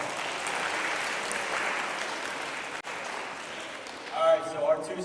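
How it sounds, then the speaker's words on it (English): Sustained applause from a school awards audience for seventh grade basketball players, dense clapping through most of the stretch, briefly dipping before a few louder claps and a voice near the end. "let's give a round of applause for 7th grade basketball"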